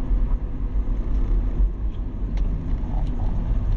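Car driving along a forest road near the Bernd Rosemeyer memorial site, with a steady low engine and road rumble heard close from inside the moving vehicle throughout.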